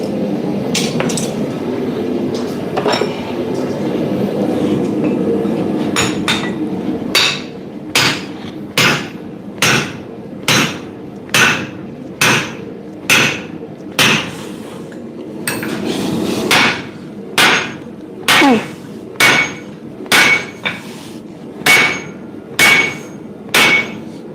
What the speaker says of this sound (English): Time for the 5-pound soft face hammer.